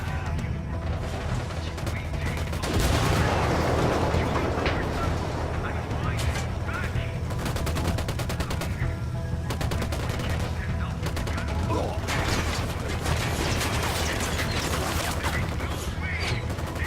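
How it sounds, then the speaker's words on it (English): Gunfire crackles through a firefight in the video game Ghost Recon Wildlands: dense automatic bursts and heavy shots go on loud and almost without a break, with crashes in between and voices shouting over the din. "Take cover! Opening fire."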